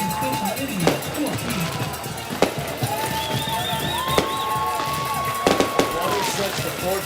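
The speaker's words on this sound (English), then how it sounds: "Got some fireworks going" Fireworks at a varsity high school football game burst in a series of sharp, scattered bangs with whistling rising tones, heard over steady crowd and stadium noise.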